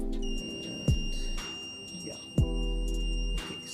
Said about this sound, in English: this buzzer is making sound because the laser is not being directed to the LDR